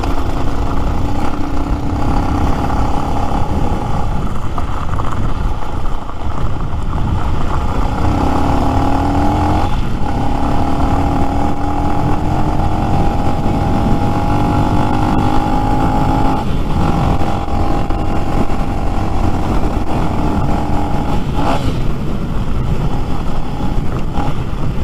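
A Lifan X-Pect fuel-injected motorcycle engine runs loudly and steadily up close, with several rising and falling throttle sweeps and no talk.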